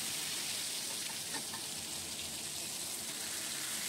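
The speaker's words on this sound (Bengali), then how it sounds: "পরিমাণ মতো সর্ষের তেল দিয়ে ফ্রাই প্যানে ভাজতে দিলাম।" Eggplant pieces fry steadily in mustard oil in a frying pan over low flame, a continuous close hiss and crackle without pauses or voices.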